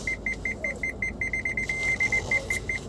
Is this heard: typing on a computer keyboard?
no